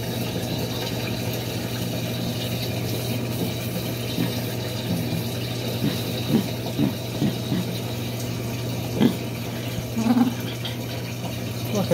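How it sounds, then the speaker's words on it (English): A Frigidaire washing machine drains during a workout wear cycle, giving a steady low hum with a soft watery wash and occasional faint clunks near the end. "Started with the drain cycle."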